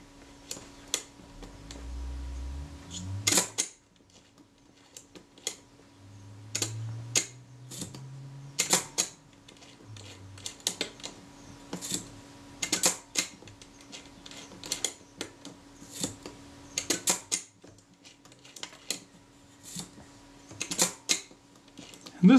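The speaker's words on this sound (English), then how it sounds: "I'm watching the action here as I roll the film sprocket at the back" A Voigtlander Perkeo II folding camera's film transport mechanism gives close, sparse, crisp ticks and clicks as the film sprocket is rolled, repeating at irregular intervals over a faint steady hum, with a few low rumbling handling noises early on.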